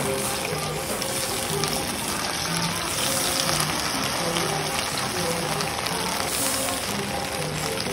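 Ground panch phoron spice paste hits hot oil for a mango pickle, giving a loud, dense crackling hiss that runs unbroken from start to finish.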